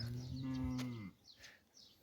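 Cattle moo on a farm where a herd of cows is being given hoof trimming, one long, loud, low moo filling the first second, followed by fainter calls and farm noise.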